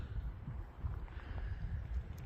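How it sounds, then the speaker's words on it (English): Strong gusting wind rushes past outdoors on an extremely windy day, a low rumbling buffet that swells and eases across a couple of seconds with no voices. "The wind has been nuts today, gusting at 40-something miles an hour."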